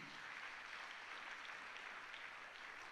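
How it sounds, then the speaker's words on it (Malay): Applause from an audience honouring family members at an Amway business event, a steady dense wash of clapping throughout, quiet and somewhat distant, with no voices over it. "Jadi satu tepukan pada semua keluarga saya hari ini."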